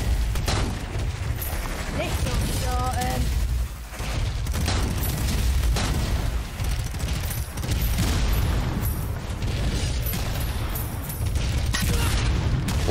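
A grenade launcher blast in the co-op shooter Strange Brigade, set in a great pyramid. It lands as a booming burst inside a dense, steady wall of gunfire and game noise, with talk over it.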